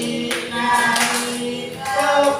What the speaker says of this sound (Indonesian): Sambil tepuk tangan ya.